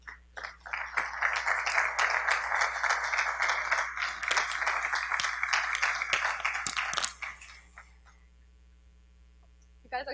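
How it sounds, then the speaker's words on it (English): An audience clapping along during a spoken word poetry performance, brisk rhythmic applause for about seven seconds that stops abruptly, leaving a quiet mains hum before a few scattered claps return. "You guys are such troopers, clapping all the way through this."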